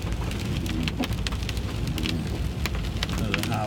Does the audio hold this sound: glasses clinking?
no